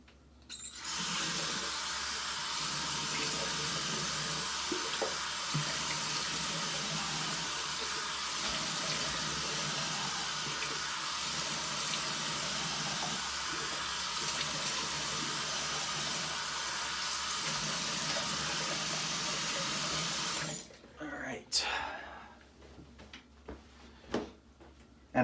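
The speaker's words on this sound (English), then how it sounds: "I'm going to splash some water on my face" Water running steadily from a bathroom tap for about twenty seconds, a close broad hiss, then cut off and followed by a few brief splashes and drips as it is splashed on the face.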